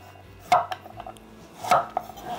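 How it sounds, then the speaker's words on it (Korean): Knife chopping carrots on a board while making gimmari-jeon, with two sharp, close cuts about a second apart and a few fainter taps between them. "당근도 맞춰갖고 이렇게 맞춰갖고 썰면 되겠습니다"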